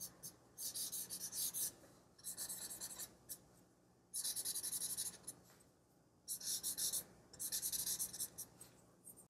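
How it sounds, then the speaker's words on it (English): A graphite pencil sketches eyelashes on paper in bursts of quick scratchy strokes, a close, quiet rasping that starts and stops in several groups with short pauses between. "Okay, and I'm going to draw the eyelashes."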